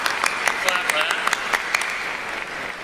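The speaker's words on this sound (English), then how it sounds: "Clap for that." Applause from a high school commencement crowd, a steady spread of clapping with a few sharper nearby claps standing out, moderately loud and fairly brief, with some crowd murmur beneath.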